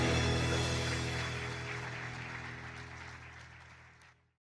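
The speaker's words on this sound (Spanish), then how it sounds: "Dale un fuerte aplauso al Señor." A church congregation applauds in dense, sustained clapping over steady background music, the sound slowly fading before it cuts off abruptly.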